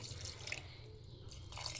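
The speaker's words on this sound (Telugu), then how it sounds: "దీంట్లో కొంచెం వాటర్ యాడ్ చేస్తున్నాను" Water splashes and trickles briefly into spiced mutton keema in a cooking pot, a soft pouring sound with a short gap, heard alone and fairly quiet.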